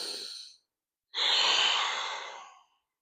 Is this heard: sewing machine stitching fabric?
no